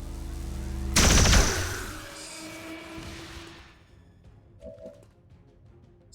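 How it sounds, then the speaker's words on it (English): A single loud pistol shot fired in the strategy game XCOM: War of the Chosen, a sharp crack followed by a long rumbling decay, with faint game effects trailing afterward. "Fire pistol."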